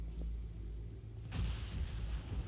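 Thunder rumbles outside Tenshikaku in the video game Genshin Impact, a low continuous roll that swells partway through, heard alone without voices.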